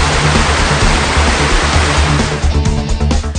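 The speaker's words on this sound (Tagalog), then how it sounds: "Ang Bunsuran Falls ay parte ng Payugan River na matatagpuan sa Barangay Calawis, Antipolo City." Bunsuran Falls on the Payugan River in Antipolo roars as a loud, dense, steady rush of falling water, easing slightly toward the end, with no voices.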